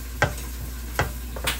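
Sauce in a heated pan for garlic sauce to go with grilled salmon sizzles under a steady hiss, with three distinct scraping stirs spaced evenly across the moment, close and moderately loud.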